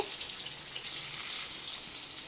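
Pointed gourds fry in oil in a wok with a continuous, even crackling sizzle, close and moderately loud, and no voices over it.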